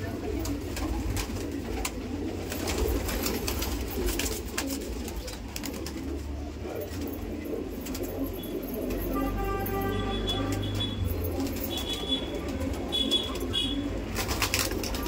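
Rampuri pigeons coo repeatedly at close range over a steady background rumble, with someone talking intermittently.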